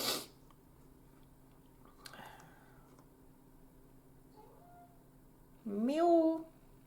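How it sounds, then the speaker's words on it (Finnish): Cats meowing for food, one drawn-out rising meow near the end that rings out loud and close, after a quiet stretch with faint rustling and a short sound earlier. "Kissat alkaa valittaa, että hei, missä on mun ruoka?"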